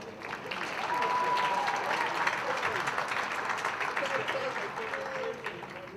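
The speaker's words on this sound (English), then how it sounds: "Ladies and gentlemen, can we give a round of applause for Mr." Audience applause at a pageant show, a full, steady wash of clapping from a crowd with faint cheers and voices carried along underneath.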